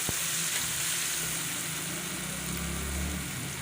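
Tomatoes, onion and green chillies fry in a pan for pulao, giving a steady, close sizzle with a brief tap of the spoon near the start.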